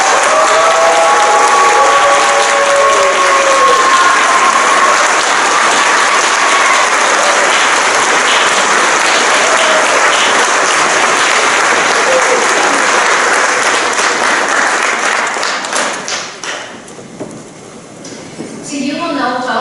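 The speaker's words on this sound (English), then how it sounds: "A huge round of applause for all of them." A large crowd applauds the 2023 graduating class at a college campus graduation ceremony, loud sustained clapping filling the hall for about fifteen seconds before thinning out, with a few voices and whoops near the start.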